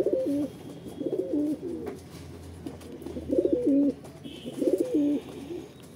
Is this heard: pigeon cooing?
yes